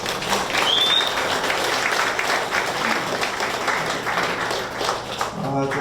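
An audience at a cultural center art exhibition opening claps for a board member being introduced, a steady round of applause lasting several seconds, with a little background voice mixed in.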